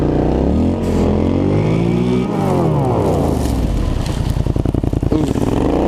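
Polaris Scrambler ATV in two-wheel drive pushing through deep blizzard snow, its engine loud and close with rising and falling revs, and a rough, stuttering throttle near the end.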